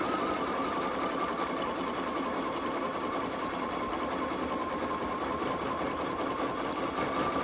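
Computerized embroidery machine stitching a design through fabric on medium weight tearaway stabilizer, a steady, fast, close whirring hum with even needle rhythm running unbroken throughout.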